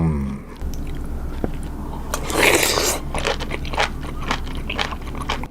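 Crisp, wet crunching of pickled jellyfish or chili marinated in Korean-style fish sauce, bitten and chewed up close in a series of irregular crackling bites with squishy moments between them.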